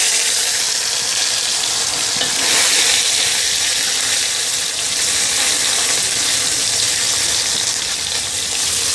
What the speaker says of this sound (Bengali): মাছগুলো এখন উল্টে পাল্টে হালকা ব্রাউন কালার করে ভেজে নেব